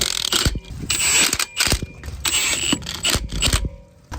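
Lug nuts being cinched down on a Toyota Camry wheel with a ratcheting wrench, giving close, loud bursts of clicking and grinding in uneven spurts with short pauses between them.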